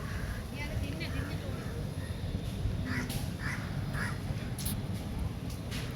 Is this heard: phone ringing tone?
no